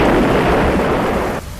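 Sound effect of a boulder shattering in an explosion in a Hindi horror audio story, a loud, deep rumbling blast that holds steady and then cuts off sharply into a fading tail.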